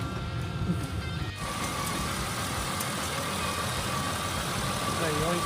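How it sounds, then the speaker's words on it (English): A Buick with a GM 3100 V6 engine runs at a steady idle after starting, a continuous low rumble with a faint tonal whine on top, close by and without any talk. "we're going to start the vehicle, we're going to check the transmission"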